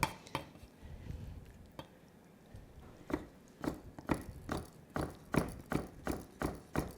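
A knife chops food for a Thai som tam-style salad on a board in steady, rhythmic strikes that speed up and grow more regular, close by with no talking.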